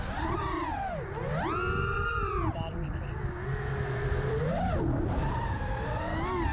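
Small drone's motors oscillating from excessive D-gain in PID tuning, a fluttery buzzing whine that sweeps up and down in pitch, loud and continuous throughout.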